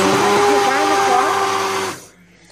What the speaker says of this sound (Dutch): Die kip bij deze overheerlijke soep die ik nog even moet blenderen.